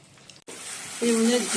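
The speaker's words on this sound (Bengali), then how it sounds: "পাঁচফোড়ন শুকনো লঙ্কা তেজপাতা ফোড়ন দিয়ে" Panch phoron, dried chilli and bay leaf hitting hot oil: a brief dip, then a sudden loud sizzle that swells and holds, with a faint tonal hum near the end.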